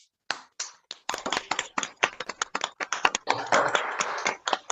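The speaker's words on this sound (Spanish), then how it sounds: "les pido a todos que abran un momento sus micrófonos para darles un fuerte aplauso a nuestros invitados" Participants in an online meeting applauding the guests through open microphones, scattered sharp claps at first that build into overlapping clapping from several people, close and uneven.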